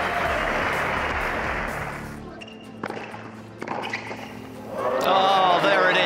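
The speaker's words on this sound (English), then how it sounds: "a big hand from the crowd" A tennis crowd at the Acapulco 2017 tournament breaks into loud, dense applause that fades to scattered claps and thuds, then a second burst swells near the end while a commentator speaks over it.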